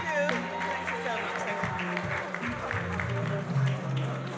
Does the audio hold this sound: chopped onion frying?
no